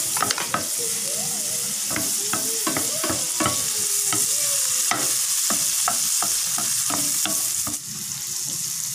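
Garlic and onion sauté in a pan for spicy scallops, a steady close sizzle broken by repeated scraping stirs, with no talking.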